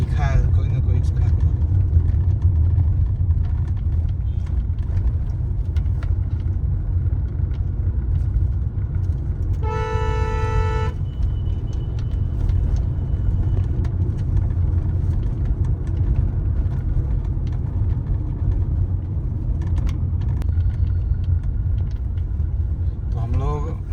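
Car cruising on the four-lane Rewa–Prayagraj highway in India, a steady low road rumble and engine drone throughout, with a brief tonal chime partway through.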